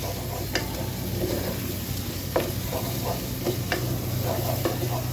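Chicken being stir-fried with chilli powder and cumin for a green chilli chicken dish, a steady close sizzle with a few sharp scraping clicks from a spoon against the pan.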